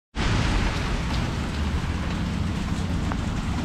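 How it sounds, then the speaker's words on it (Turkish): Heavy rain falls in Vladikavkaz as a constant, close roar of water on surfaces, steady and unbroken with no speech. "burada acayip derecede yağmurlu"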